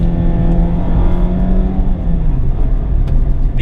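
A 2019 Mazda MX-5 Miata RF with a 6-speed manual driving along, a steady close engine drone that dips briefly as if between gears, then resumes with a light whir and road rumble.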